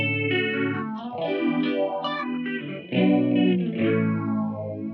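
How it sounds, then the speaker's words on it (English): Electric guitar through a Kinman Surfmaster DV Jazzmaster-style pickup, played with heavy chorus and phaser modulation, sustained chords swirling and wobbling with a thick, slightly distorted shimmer, close and steady with no talking. "Like here's some pretty heavy chorusing. And then we can add phasing."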